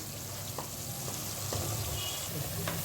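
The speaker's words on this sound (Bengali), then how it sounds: "দেখুন আমার মশলাটা পুরো ভাজা হয়ে গেছে এবং পুরো তেল বেরিয়ে এসেছে" Spice masala for doi katla fries in oil in a pan, a steady close sizzle with a few soft stirring scrapes and clicks, no talking.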